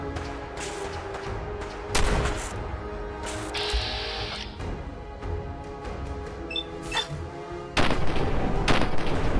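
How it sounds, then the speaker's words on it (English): A combat shotgun fires in Fallout 4 during a trek across the Glowing Sea, with a few loud, booming blasts spaced irregularly over a rumbling background and clattering in between. "That is a combat shotgun."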